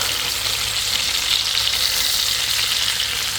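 Carp fish frying in oil in a pan, prepared as a butter fry: a dense, loud, continuous sizzle holding steady throughout, with no voices.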